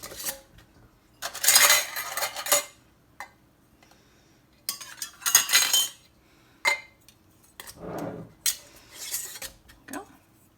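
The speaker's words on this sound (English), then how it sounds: "Now we're putting on our lids and our rings, and I'm just tightening them to fingertip tight." Metal lids and screw rings clinking onto glass quart canning jars of green beans as they are tightened by hand, bursts of sharp metallic rattling and scraping separated by short quiet pauses, close up.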